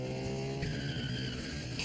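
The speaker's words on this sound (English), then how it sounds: "Once again, the car gets up to 40 miles per hour" A car driving at 40 miles per hour on a wet road, a steady engine drone with a rising tire squeal as it pushes into a turn, close and loud.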